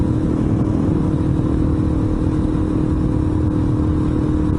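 A KTM liquid-cooled single-cylinder dual-sport thumper is ridden along, its engine giving a steady, loud, continuous drone throughout with no pauses.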